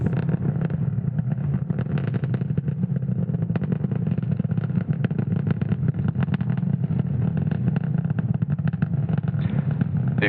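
SpaceX Falcon 9 rocket climbing after liftoff from Slick 40 at Cape Canaveral, Florida, a continuous loud crackling roar heavy in the low end, steady throughout without voices.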